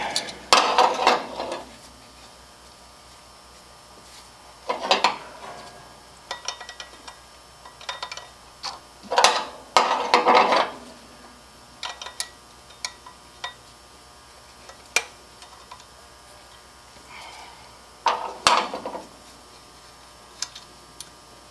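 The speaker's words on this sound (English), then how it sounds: "Need 2 wrenches to remove it." Wrenches clink and tick against metal while a part comes off a 1979 Jeep Cherokee during carburetor, fuel pump and filter work, sounding as scattered close metallic taps and scrapes in short bursts separated by pauses.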